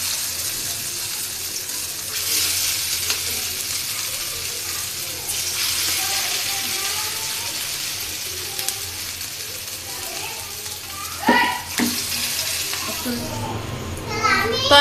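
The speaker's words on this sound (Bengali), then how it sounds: "এখন আমি এটি ভাজবো। তেল গরম হয়ে গেছে" Vegetable chops topped with chopped garlic fry in hot oil, giving off a steady hissing sizzle throughout, with faint background voices and a few louder clatters near the end.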